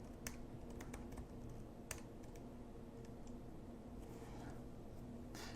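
Password being typed on a computer keyboard in a quiet room, a faint run of soft key clicks with a few sharper taps standing out, recorded close but at low level.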